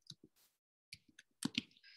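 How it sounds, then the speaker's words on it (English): Keys on a computer keyboard are tapped in a short, irregular burst of quiet clicks, with a pause midway and a quicker cluster of keystrokes near the end, close and faint. "I'm just typing Inoja."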